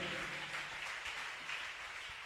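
A church congregation applauding in a dense, steady wash of many hands clapping together, with a full, even level throughout and no distinct voices.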